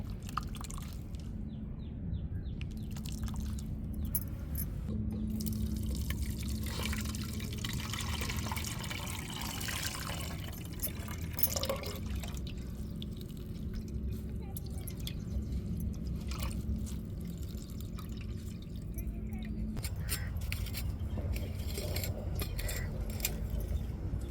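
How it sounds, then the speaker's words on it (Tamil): Grated coconut squeezed by hand with water to press out coconut milk for coconut milk rice: steady, close wet squelching with trickling and dripping liquid, continuous throughout with no talk. "நாங்கள் சும்மா வெறுமனையாக தண்ணியை ஊற்றி தாங்க பிணைஞ்சி எடுக்கிறோம் இப்போ இருத்து எடுத்துக்கிருவோங்க"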